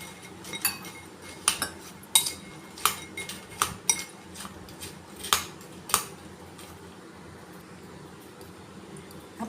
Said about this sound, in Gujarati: હવે આપણે તેમાં થોડું થોડું દૂધ નાખીને ઉમેરીશું અને તેને હલાવતા જશું